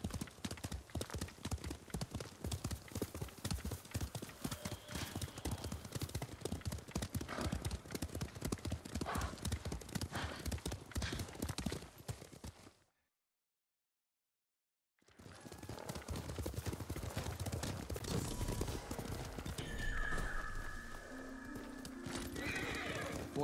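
A horse gallops in Ghost of Tsushima, with steady rapid hoofbeats close and loud, a brief gap of silence, then more galloping with a whinny and other game sounds, no talking.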